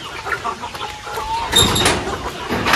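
Heritage chickens in backyard breeder pens cluck steadily at close range, a busy run of short calls with a sharper, louder burst of squawks partway through.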